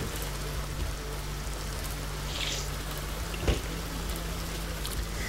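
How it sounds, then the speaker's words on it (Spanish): Steady heavy rain in The Sims 2 video game hisses continuously, with a low rumbling undertone and one brief thud partway through; no talking. "se largó fuerte la lluvia"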